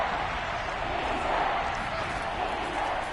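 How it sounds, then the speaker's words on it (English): Constant crowd roar fills a Madden NFL 22 football game, Washington against the Eagles, ahead of a third down. The broad, steady stadium murmur stays loud and unbroken, and a commentator's voice runs through it. "Crowd getting in it a bit already."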